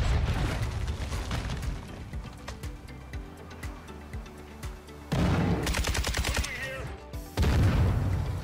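Gunfire in the video game Warzone 2, with repeated sharp shots and louder bursts cutting in around the middle and near the end over a steady game-sound bed.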